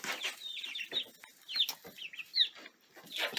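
Barred Rock hens cluck and chirp close by, with quick, uneven, high-pitched calls coming in short bursts.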